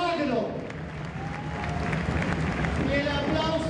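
Sustained applause from an audience at a gathering of Latin American representatives, greeting Pepe Mujica: dense, steady clapping that fills the room, with crowd voices mixed underneath.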